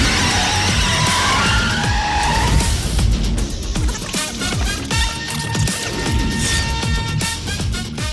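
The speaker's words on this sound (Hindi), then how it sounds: "बाहर किसी जीप की आवाज सुनाई दे रही है।" Jeep outside a police station, engine revving as its tires skid and squeal loudly, a harsh screech that gives way to a rumbling motor and gritty rolling tire noise, close and prominent with no talk.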